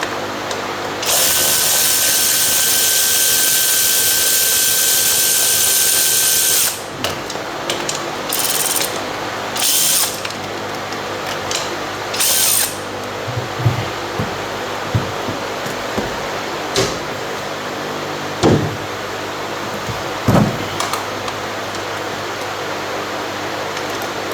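A power tool works on removing a car's throttle body, whirring loudly in one long continuous run, then in several short spurts, with metallic clicks and ratcheting in between, close by.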